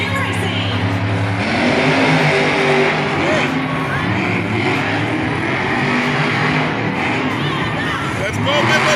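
Monster Jam monster trucks idle and rev at the start line before a racing round, a loud continuous engine drone with crowd noise in an arena, under an announcer's voice throughout.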